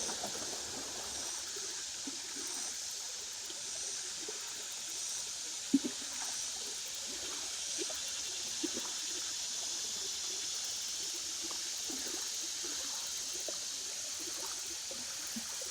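A stream flows steadily over rocks during an afternoon of fishing, giving a soft continuous wash of running water with a few faint splashes and clicks, with no talk.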